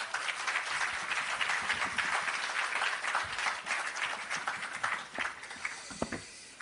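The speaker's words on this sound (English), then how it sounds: "Please give him another round of applause" Sustained applause from a crowd at the opening of an agro park in Clarendon, Jamaica, for Minister Floyd Green, with thick continuous clapping that thins toward the end.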